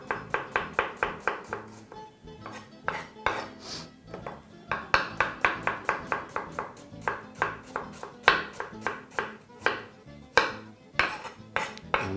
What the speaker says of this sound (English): Now we're just going to proceed to cut those into some half moon shapes